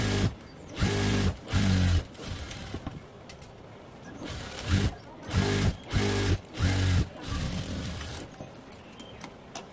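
A sewing machine stitches the side seam of a cotton blouse in a series of short, rhythmic runs that start and stop repeatedly, close and fairly loud, with quieter handling sounds between the bursts.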